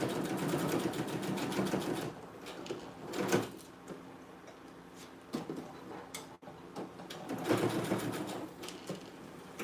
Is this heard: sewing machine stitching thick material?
yes